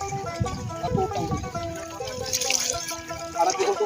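Cold groundwater from underground pours and splashes while someone bathes in a paddy field. The trickling, sloshing water is close and continuous, with voices faintly mixed in.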